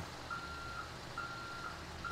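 A reversing tow truck in the GTA 5 video game sends out a steady series of evenly spaced electronic beeps over a constant low engine hum.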